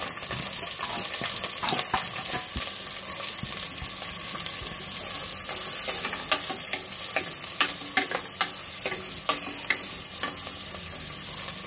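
Steady sizzling and crackling of onions and curry leaves frying in a hot pan for chicken salna, with occasional scraping stirs, continuous and fairly close.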